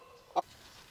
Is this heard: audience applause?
no